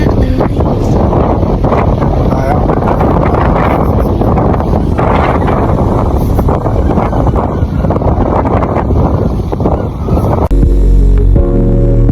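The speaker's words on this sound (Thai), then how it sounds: "ประสบภัยแล้วค่ะลมแรงมาก" Strong mountain wind on Kowloon Peak in Hong Kong roars and buffets the microphone in a loud, continuous rush throughout, with a deeper rumbling blast near the end.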